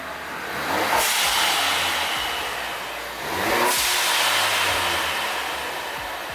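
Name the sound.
Ford Focus ST stock exhaust revving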